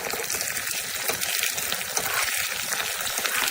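Water poured into a pan of lightly fried rice for biryani, two glasses of rice to four of water: a steady broadband gush and hiss running unbroken and close, with no talk over it.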